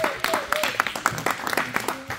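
A church congregation applauds during a wedding consecration in Rennes, with brisk, uneven clapping close by, mixed with voices speaking over it.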